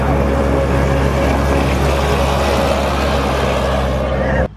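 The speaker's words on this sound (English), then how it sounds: "listen, it sounds like a dune buggy too" Steady, loud engine drone from a dune buggy in a corn maze at night, a continuous broadband rumble holding level throughout before cutting off abruptly near the end.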